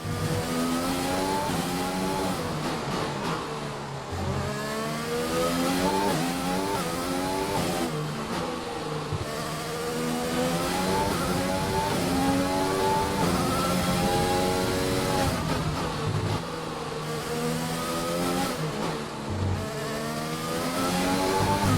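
An F1 2020 race car engine screams through repeated climbs in pitch as it accelerates and shifts up through the gears, loud and continuous with short dips where it lifts off between runs.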